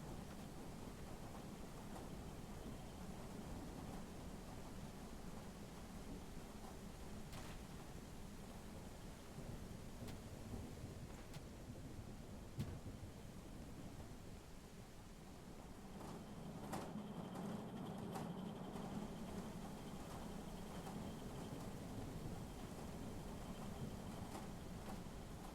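Steady rain hisses across a hardcore arctic winter map in Out of Ore, with thunder cracking and rumbling at intervals through the downpour and no voices.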